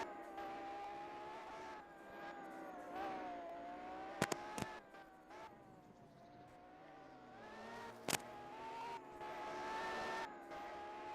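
A race car on a time attack track at SNGP drones on under load, its engine pitch rising and falling as it works through corners, with a few sharp clicks cutting through.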